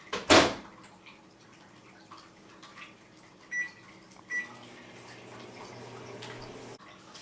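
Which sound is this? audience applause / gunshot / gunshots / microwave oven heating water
microwave oven heating water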